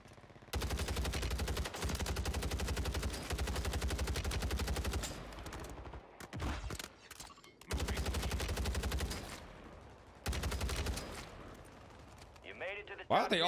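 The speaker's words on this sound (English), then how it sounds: "Who the hell is shooting that?" Bursts of rapid submachine-gun fire in the Warzone video game, long sustained volleys broken by short pauses, loud and close, with a voice talking briefly between the bursts.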